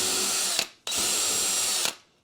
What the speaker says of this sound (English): So we're just going to drill the 3 holes into these